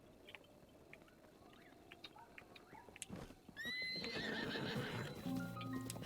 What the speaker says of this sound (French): Oh, un poney bleu. J'aime bien les poneys bleus.